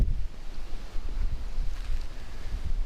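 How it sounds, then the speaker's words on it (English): Wind picks up during a hike at Lake Shetek State Park in Currie, Minnesota, a low, gusty rumble buffeting the microphone, with no talk. "We got that wind picking up."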